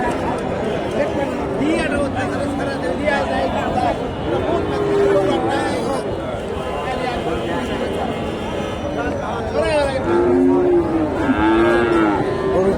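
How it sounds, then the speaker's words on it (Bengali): Friesian calves and other cattle at a rural cattle market moo several times, some calls near and loud. Crowd chatter and talking run underneath. "গরুটা দেখেন মাসাল্লাহ অনেক অনেক সুন্দর একটা সার বাচ্চা আর এটা বকনা বাচ্চা"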